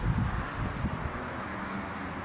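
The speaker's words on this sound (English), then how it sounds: "It's really windy out here." Wind blows steadily outdoors at an abandoned ranch ballroom, a broad low rumbling buffet against the microphone that holds fairly constant for a couple of seconds.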